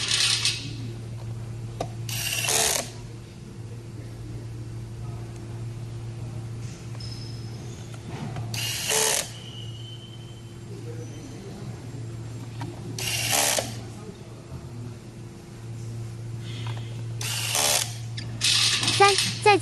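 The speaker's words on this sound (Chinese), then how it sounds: "Secure the main board with screws." A screwdriver fastens screws to secure a fan motor's main board, with short ratcheting bursts recurring every few seconds over a steady low mechanical hum.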